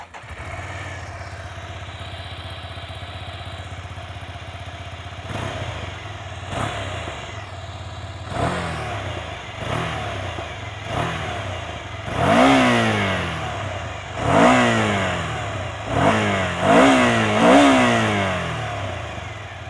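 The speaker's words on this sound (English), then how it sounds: "the Termignoni exhaust aids in keeping you entertained. Now, it's not very loud or dramatic, but quite pleasant to the ears nonetheless" A 2024 Ducati Scrambler 2G with a Termignoni exhaust idling, then revved repeatedly in short blips, each rising and falling in pitch, pleasant but not very loud, close by.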